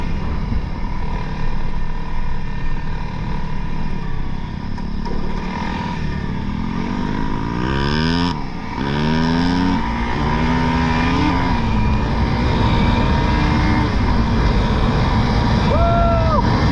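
A 2021 Honda CRF300L motorcycle on the move: a loud, close engine drone with wind noise that rises and falls as the rider shifts and revs, the pitch sweeping up and down in the middle stretch.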